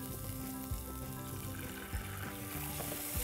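Cumin seeds with chopped fresh coriander and cream fry in ghee, giving a soft, steady sizzle close by with a few faint stirring knocks, fairly quiet and without any voice.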